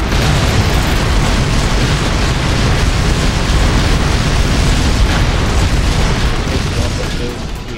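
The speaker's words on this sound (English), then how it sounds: "a firework or a gas explosion" A gas explosion in a New York mod of the Emergency 4 game gives a loud, dense, sustained roaring blast that fills the whole stretch and fades slightly at the end.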